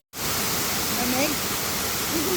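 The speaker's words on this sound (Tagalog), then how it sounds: "Wow, yan na yung falls." A waterfall at a campsite pours a steady, close, broadband rush of water for the whole stretch, with faint voices and brief tonal calls drifting over the roar.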